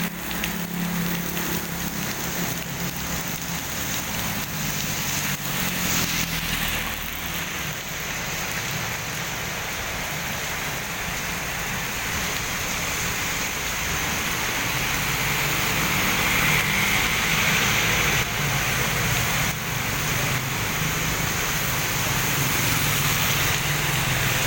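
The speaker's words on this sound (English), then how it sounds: "Just moderate to heavy rains at times." Heavy typhoon rain pouring down in Angeles City, Philippines, a loud, continuous, dense roar of falling water and splashing that holds steady for the whole stretch, with no talking.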